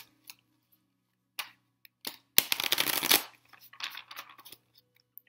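A deck of fairly stiff oracle cards is shuffled by hand, with a dense riffling burst of about a second followed by scattered soft card flicks and taps, close and alone with no talk.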